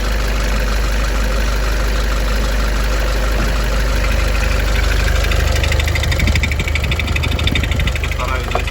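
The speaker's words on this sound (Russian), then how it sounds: "Мотор работает очень шумно." A Great Wall Hover H5 with the 4D20 diesel engine idles noisily, with a constant low drone and a rapid, even knocking clatter throughout, recorded up close.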